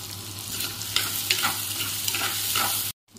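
Chopped tomatoes fry in a hot pan for an egg fry dish, with steady sizzling and repeated scraping stir strokes, close up, before the sound cuts off abruptly.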